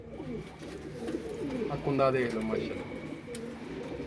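Kasuri pigeons cooing in a loft, soft rolling coos beneath someone talking close by, with faint background noise.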